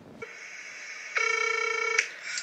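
A phone rings for an incoming call: a loud, steady electronic buzzing ring tone that plays alone with no talk and shifts pitch partway through.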